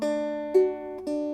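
An acoustic guitar plucks individual chord notes slowly, three soft attacks letting each string ring into the next, clear and close.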